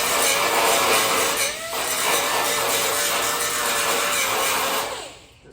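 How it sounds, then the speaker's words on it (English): A die grinder fitted with an ordinary cutting blade grinds spot welds on a 1968 Camaro body, a loud continuous high whine with brief dips in pitch as it bites the metal, running alone until it spins down at the end. "I just take my die grinder with a normal cutting blade"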